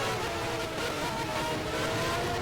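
F1 race cars roar off the line at the start of an F1 Challenge video game race, engines revving hard in a dense, loud, unbroken wall of sound.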